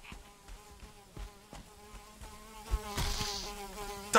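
Insect buzzing of a mosquito in a Valheim-style survival video game, a steady whining drone with harmonic bands under sharp clicks and hits, swelling louder near the end; no talking.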